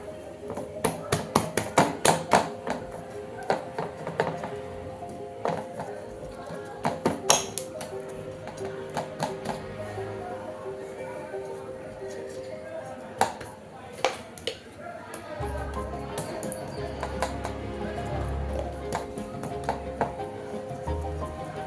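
A knife cuts through cooled chana dal halwa, a sweet made from split chickpeas with raisins. Several sharp taps against the board come in a quick run early on, then scattered single chops, with a voice talking faintly underneath.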